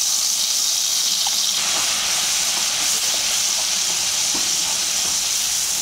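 A spice paste poured into hot oil with dried chilli, bay leaf, cardamom and turmeric, giving a loud, steady, hissing sizzle that holds throughout with faint crackles and no talk.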